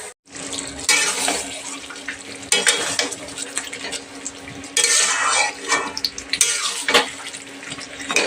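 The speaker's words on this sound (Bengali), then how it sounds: "আর কড়াতে দেখো আমি পেঁয়াজটা এদিকে ভাজতে দিয়েছি" Onion fries in a karahi with a steady, close sizzle and crackle, broken by several bursts of stirring scrapes and hissing spurts, and no one speaks.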